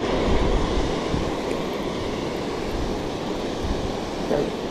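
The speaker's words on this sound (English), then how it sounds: "We will stay out here in the pouring rain." Pouring rain at a river spillway, a dense, steady hiss of falling water and rushing flow filling the scene without break, fairly loud and close.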